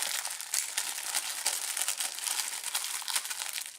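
Stiff plastic blister packaging for a USP 45 Match airsoft pistol crackles and crinkles steadily as a knife works at it, a close, continuous rustle with no talk.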